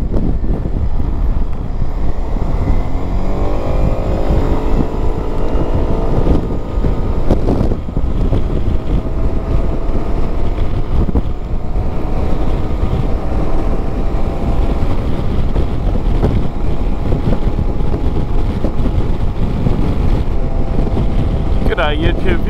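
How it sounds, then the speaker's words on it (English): Suzuki Burgman 200 scooter running at full throttle on a highway, a steady loud engine drone heavily mixed with constant wind buffeting across the microphone, with a rising whine as speed builds. "we're out on the Suzuki Burgman 200 today."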